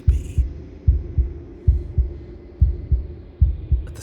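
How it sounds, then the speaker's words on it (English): A wooden and fleshy heart in the video game Slay the Princess beats in a steady, unbroken double-thump rhythm, deep and close, repeating about five times with no other sound beyond a faint background hum. "a wooden and fleshy heart beating with an unbroken rhythm"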